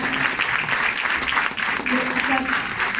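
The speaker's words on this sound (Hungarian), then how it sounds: "Szerintem tapsoljunk még egyet." Audience clapping at a performance, a steady dense wash of applause filling the whole stretch at fairly close range, with faint voices mixed beneath.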